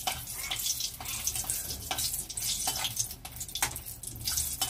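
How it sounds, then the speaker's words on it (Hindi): Four dried red chillies sizzle in hot oil, a steady, close crackling hiss with small popping bursts throughout. "अब इसमें ऐड कर देंगे हम सूखा मिर्चा 4 पीस और इसको गोल्डन ब्राउन होने तक फ्राई करेंगे"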